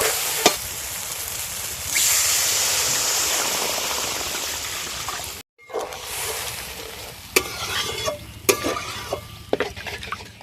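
Water poured into spice paste frying for a snakehead fish curry: a steady hiss and sizzle that swells and rushes, then after a brief break, close clattering stirs and scrapes in the pan.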